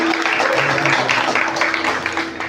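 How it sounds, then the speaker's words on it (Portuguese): A church congregation at an adolescents' festival service applauds together, a dense and loud wash of clapping that fills the short moment with no break. "Você pode aplaudir ao Senhor pela vida dos adolescentes?"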